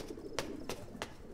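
A few pigeons coo softly in a quiet indoor setting, three short calls spaced evenly over a faint steady background.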